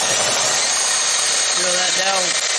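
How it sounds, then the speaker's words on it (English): A power drill drilling out a dowel hole in a 2JZ engine mount whines steadily and loudly, its pitch shifting as it bites into material, the motor straining near the end. "Just drill that"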